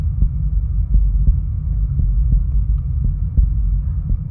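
A slow, regular heartbeat thumps low and steady under a constant deep hum in the horror video game Pizza Delivery, with about a dozen evenly spaced beats.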